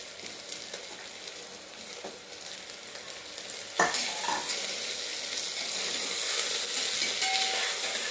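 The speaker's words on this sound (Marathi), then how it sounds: "टोमॅटो पण एक दोन मिनिट चांगलं परतून घ्यायचं तेलामध्ये" Tomatoes and raw masala sautéing in hot oil in a home kitchen pan, a continuous soft sizzle with a sudden sharper crackle partway through as ingredients are stirred, fairly quiet and close.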